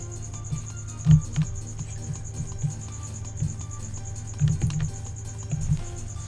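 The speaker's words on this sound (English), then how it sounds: "Crickets, you are being so noisy right now." Crickets chirp in a steady high-pitched pulsing trill throughout, faint in the background beneath scattered soft clicks and taps from a computer keyboard and mouse nearby.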